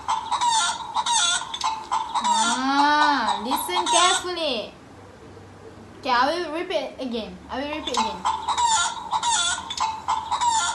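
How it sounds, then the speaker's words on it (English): Chicken and rooster sounds, clucking and crowing, played in repeated bursts for a nursery animal-sounds lesson, loud and clear, with a teacher talking between the playbacks. "That sound is chicken sounds."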